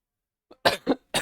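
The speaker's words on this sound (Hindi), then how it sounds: "थोड़ी सी खांसी हो गई यहाँ पर" A faint throat sound followed by three quick, close coughs in succession.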